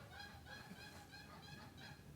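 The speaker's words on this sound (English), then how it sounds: "Do you guys hear that? There's like geese flying overhead." Geese honk repeatedly while flying overhead, a steady series of nasal calls at moderate volume over a constant outdoor background hiss.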